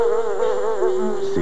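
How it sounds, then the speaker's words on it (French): Housefly buzzing loudly and close, a continuous droning whine that wavers slightly in pitch throughout, with no voices. "Imaginez une mouche pendant toute une vie."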